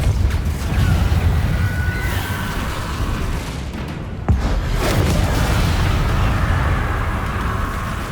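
The Depulso spell is cast in Hogwarts Legacy, producing a dense, booming blast of magical force over a constant roar of game noise, with a sharp crack midway that sets off a fresh surge.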